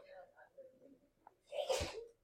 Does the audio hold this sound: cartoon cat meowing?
no